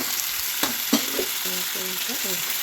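Tomato and coriander fry in hot oil for an okra curry, a close, steady sizzle with a few spoon knocks and stirring scrapes, while a faint voice-like tonal murmur drifts underneath toward the end.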